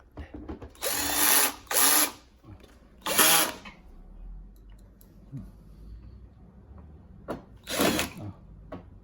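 A power screwdriver drives screws into coffee machine exterior parts in several short whirring bursts, two close together, then another, and a last one after a pause, with quiet handling clicks between.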